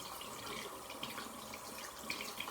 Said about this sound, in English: So the first thing we're going to do is rinse our hands.